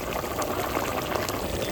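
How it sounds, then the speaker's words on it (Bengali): Raw mustard oil trickles into a cooking pan of simmering kakrol (spiny gourd) curry, giving a soft, steady, faint hiss of liquid and gentle bubbling with no talking. "এইবার আমি অল্প একটু কাঁচা তেল দিয়ে ঢাকা দেব।"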